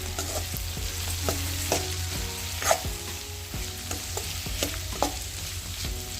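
Turmeric sizzles in hot oil in a pan for capsicum rice, a steady close-up frying hiss broken by repeated clinks and scrapes of a spatula stirring, with no one speaking.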